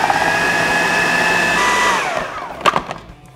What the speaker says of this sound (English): transfer everything to the food processor. Now, fingers crossed, give that a buzz